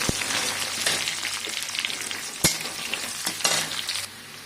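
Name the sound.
frying chopped onions and ginger in a pan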